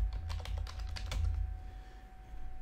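A password being typed on a computer keyboard, a quick run of light, close key clicks in a burst over about a second, then quiet with a low steady hum underneath.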